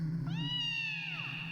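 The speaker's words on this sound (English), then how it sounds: "They have a little cat." A single drawn-out cat meow from a character's pet in the .hack//G.U. video game, rising then slowly falling in pitch, close and clear over a low game-music background, with no talking.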